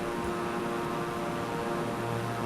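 Airplane taking off in a flight simulator game, a steady droning engine and propeller hum held at an even level for a couple of seconds.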